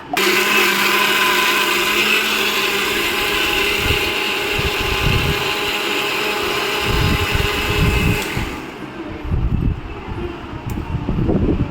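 A mixer grinder blends boiled spinach into paste for restaurant-style palak paneer, a loud continuous motor whine close up that cuts out near the end, followed by rattling and clattering.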